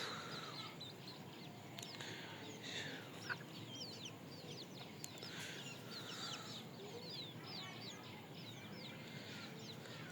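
Native chickens and their chicks at a rural homestead, with soft clucks and a steady scatter of high peeping chirps from the chicks, fairly quiet and continuous, with no talk over them.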